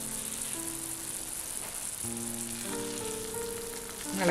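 Curry with red spinach kofta sizzles steadily in hot oil, a continuous bright frying hiss under faint tonal hum, with a brief stir near the end and no talk.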